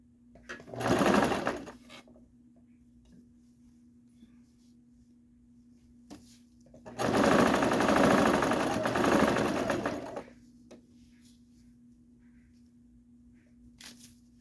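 Sewing machine stitching a seam on a garment sleeve, running in two bursts, one short and one about three seconds long, close and loud, with a steady background hum between them.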